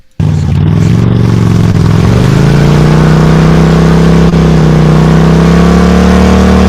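A loud, steady motorcycle engine drone from a motorcycle that converts into a jet ski starts abruptly and holds a sustained revving pitch that rises slightly, continuous for several seconds with no voices.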